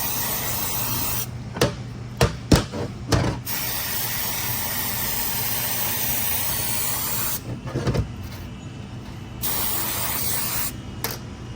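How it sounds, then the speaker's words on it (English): Compressed air hisses in long, loud continuous blasts, cleaning a 6L80 transmission drum, broken by short pauses and a few sharp clicks of the nozzle between sprays. "I'm just going to spray it off with air."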